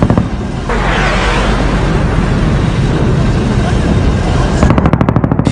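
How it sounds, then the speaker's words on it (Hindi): Loud, continuous helicopter roaring with a dense rumble over Ankara during a military coup attempt, ending in rapid bursts of gunfire from the helicopter rattling in quick succession. "अंकारा में सेना के बागी गुट की तरफ से हेलीकॉप्टर के जरिए गोलियां बरसाई गई।"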